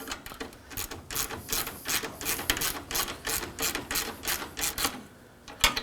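A ratchet wrench snugging radiator bolts on a 2014-2020 Acura MDX, giving repeated rapid clicking bursts in a steady back-and-forth rhythm, close and fairly loud, with no talking.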